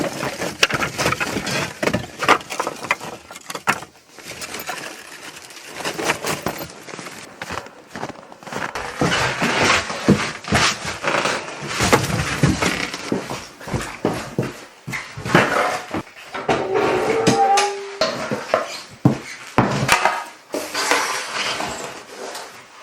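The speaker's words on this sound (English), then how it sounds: "We are going to crank this stove" Wood stove in a cabin in extreme cold being loaded and stoked: clanking metal door and tools, knocking logs, scraping and shuffling movement in a steady irregular stream, up close.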